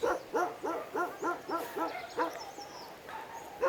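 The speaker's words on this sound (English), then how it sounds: "There are quite a lot of dogs around here." Several dogs bark nearby outdoors in a rapid series of about eight loud, sharp barks, followed by a short pause and a couple more barks, with no talking.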